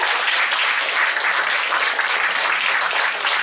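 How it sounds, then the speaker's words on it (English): Audience applause for a performer, a dense, steady wash of clapping from many hands that holds loud and even throughout with no talk over it. "let's hear it for Scott the Sandman"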